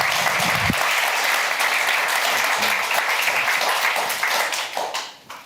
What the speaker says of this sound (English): give him a very warm applause